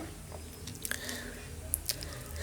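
Someone biting and chewing chocolate fudge brownie, with a few soft crunchy bites and moist chewing sounds, close and quiet over a faint background hum.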